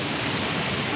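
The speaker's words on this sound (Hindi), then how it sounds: "बहुत ज़्यादा बारिश हो रही है, सुबह से लगी हुई है अभी तक" Heavy rain pouring down on a rainy day, a dense, loud, unbroken hiss of drops hitting surfaces close by, with no talking.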